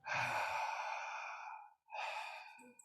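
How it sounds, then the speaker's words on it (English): Slow, deep open-mouth breaths of holotropic breathwork, close and loud: one long airy exhale drawn out for over a second, a brief pause, then a second breath, with no talking. "So this open mouth breathing, that's what we do in holotropic breath work."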